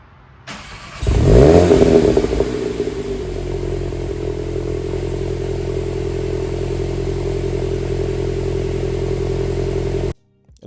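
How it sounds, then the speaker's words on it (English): A Volkswagen MK8.5 Golf GTI cold-starting: starter crank, then a loud rev flare that settles into a steady, elevated idle drone, close and alone for several seconds before cutting off. "when you're doing a cold start, it revs it up a little bit higher and you've got some pops and bangs"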